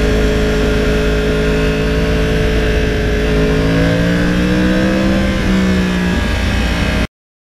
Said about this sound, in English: when you back off the gas at a relatively high RPM, it just sounds like an Indy car.